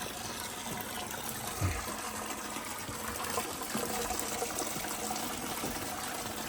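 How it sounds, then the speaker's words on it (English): Water draining out of a cabin pipe pours in a steady, close trickling gush, continuous and fairly loud with small splashes throughout and no voices. "That's how the water comes out."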